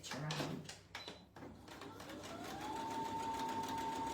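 A sewing machine stitching around a shirt facing, starting with a few handling knocks and clicks before the motor settles into a steady, rising whir that runs continuously, close and fairly quiet.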